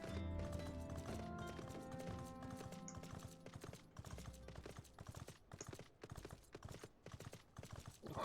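Horse hooves clip-clop steadily in Final Fantasy XIV while riding, a quick, even rhythm of hoofbeats layered under the game's music and ambience.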